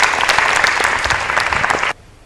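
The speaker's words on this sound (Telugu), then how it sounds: "గట్టిగా చప్పట్లతో అభినందించడం." A studio audience at a Christian television programme claps loudly in a dense burst of applause that stops abruptly after about two seconds, leaving near silence.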